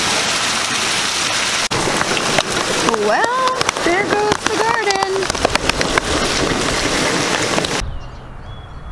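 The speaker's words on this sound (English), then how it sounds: "We've had hail before, but never this much hail that it looks like it just snows." Dense hail pounding down in a massive Phoenix storm, a loud continuous roar of pelting ice with a voice speaking briefly over it before the din cuts off near the end.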